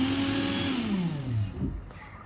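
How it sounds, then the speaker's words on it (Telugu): A just-cleaned kitchen mixer grinder switched on for a quick test: a loud motor whine that drops in pitch as it winds down, then cuts off, leaving a faint hum. "మిక్సీ కూడా క్లీన్ చేసేసుకున్నాను కాబట్టి ఒకసారి చెక్ చేసేసుకుంటున్నాను అనమాట, ఆన్ అవుతుందా లేదా అని చెప్పి"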